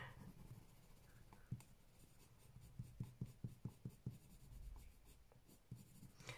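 A Caran d'Ache Luminance colored pencil scratches over very toothy paper, laying in beige skin-tone layers in quiet, close, rhythmic strokes with a run of evenly spaced short scrapes.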